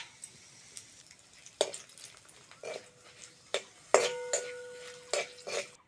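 Whole cumin, dried chilli and bay leaf hit hot oil for a tempering, with soft crackles, faint sizzle and several sharp clinks of utensils against a pan, fairly quiet and close.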